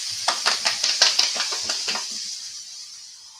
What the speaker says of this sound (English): Kind of fry it a little bit.